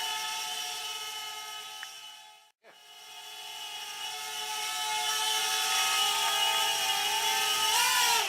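A Syma X20 quadcopter drone hovers close by with a steady high-pitched whine, dropping out briefly before returning and swelling louder toward the end.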